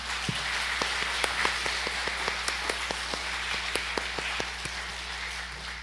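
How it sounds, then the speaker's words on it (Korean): Scattered hand claps from a church congregation, irregular and fairly sparse, standing out over a steady low hum of room tone and amplification; no voices over them. "이 시간 우리 하나님께 영광의 박수 올려드리겠습니다"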